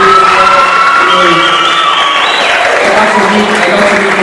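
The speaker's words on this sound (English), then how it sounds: "Put a round of applause for his family." Applause from the audience at the Alpha Beautillion 2025 event, a loud, steady wash of clapping with cheering and whoops over several seconds, with voices shouting in the crowd.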